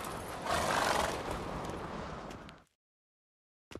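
Roach the horse in The Witcher 3 neighs in a loud, rough whinny for about two seconds before cutting to silence, then a brief thump follows.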